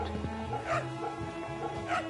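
A dog in the Fate/Samurai Remnant video game gives short yips and soft whimpering barks, several close bursts spread across a couple of seconds over faint steady background music.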